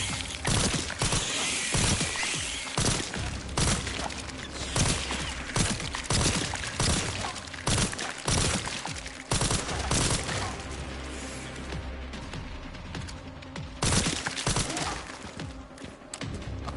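Rapid, loud gunfire from shooting enemies in the survival horror game Resident Evil Requiem, with dense bursts of shots and heavy thuds continuing almost nonstop under game music.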